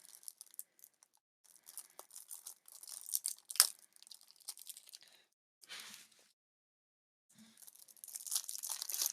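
Someone tears open the packaging of a SolForge Fusion card deck: quiet, scattered bursts of ripping and crinkling with brief pauses, then a longer rustle at the end.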